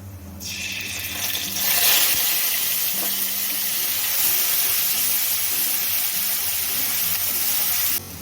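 Bay leaf and radhuni seeds sizzle in hot oil in a pan, a steady close hiss and crackle that rises after the first second and holds evenly to the end, with no talking.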